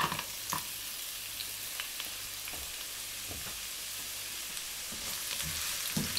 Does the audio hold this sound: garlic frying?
yes